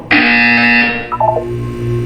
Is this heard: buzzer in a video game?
yes